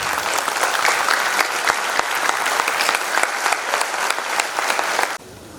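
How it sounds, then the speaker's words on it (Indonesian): An audience at a public lecture applauds to welcome an ambassador, dense sustained clapping from many hands in a hall that stops abruptly near the end. "mari kita berikan big applause"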